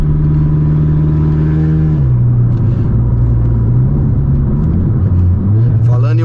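A remapped Volkswagen Jetta 1.4 TSI accelerates hard from the cabin, its engine droning loud and steady as the pitch drops with each gear change, then climbs again, with a voice speaking over it.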